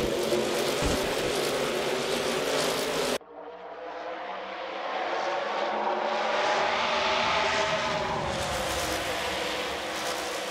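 NASCAR trucks roaring off the start at Atlanta Motor Speedway in a racing video game: a loud pack drone cuts out abruptly, then the engine roar swells back and builds steadily, with no talk.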